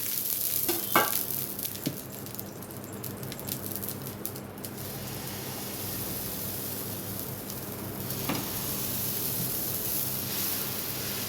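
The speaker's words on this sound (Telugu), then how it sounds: "కొంచెం ఆయిల్ ఇట్లా రాసుకొని ఆనియన్ దోశ వేస్తున్నాను" Onion dosa batter sizzles steadily in oil on a hot pan, a soft even hiss running throughout with a few faint clinks and scrapes, no voices.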